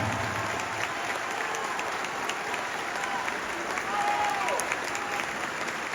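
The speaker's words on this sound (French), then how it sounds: "je vous demande de vous applaudir avec la plus grande puissance" Sustained applause from a large audience at a French-language public address, steady and dense clapping filling the whole stretch with a faint crowd murmur underneath.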